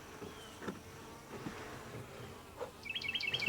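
Flying insects buzz around an open beehive, horse flies among them, a steady low drone close by, with a faint bird chirping near the end.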